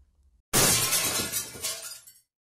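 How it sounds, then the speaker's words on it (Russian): A small thrown stone smashes a second-floor glass window pane: after a quiet start, a sudden loud crash gives way to a spray of tinkling shards that fades out over about a second and a half. "маленький камень летит во стекло второго этажа"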